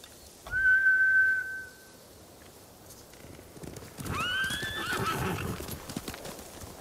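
Samurai warhorses in the video game Ghost of Tsushima gallop and neigh. A loud whinny opens the clip, and a second neigh sounds later over clattering hoofbeats.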